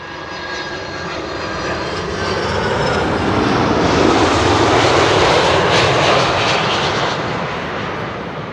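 An Icelandair jet on arrival at Schiphol passes overhead as a loud, broad engine roar that swells to a peak midway and then slowly eases off, with no voices.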